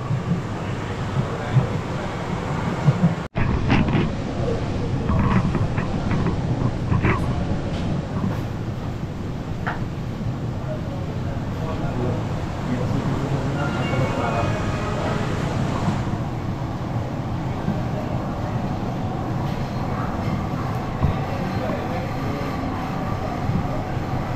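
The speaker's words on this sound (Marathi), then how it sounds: "ट्रेन एवढी फास्ट चालते म्हणजे नॉर्मल टाईम स्पीडमध्ये पण किती फास्ट चालते बघा" A Mumbai Metro Line 3 Aqua Line train runs underground at speed, a steady, loud rumble and roar filling the whole stretch, with a sharp click near the start and a slight shift in tone toward the end.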